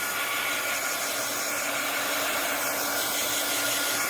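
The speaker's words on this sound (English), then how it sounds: "you can boost it along with your heat gun or a hair dryer" A hair dryer drying Bob Ross gesso blows steadily and close by, a constant loud whoosh of airy noise with no pauses and no voices.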